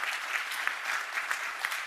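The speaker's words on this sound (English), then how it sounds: "let's give the team a round of applause" Steady round of audience applause at a graduation ceremony for a team, many hands clapping continuously and evenly at moderate volume for about two seconds.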